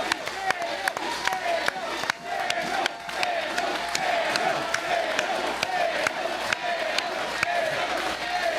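A crowd at a political event cheers and claps continuously, with scattered sharp claps and shouts over a dense, lively roar of voices.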